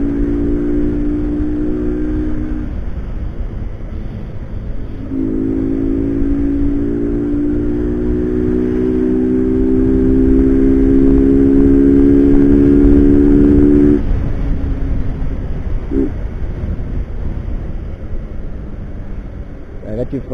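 A Honda Fan motorcycle engine revs in city traffic, a steady mid-pitched drone that rises and holds before easing off, with a voice talking over it.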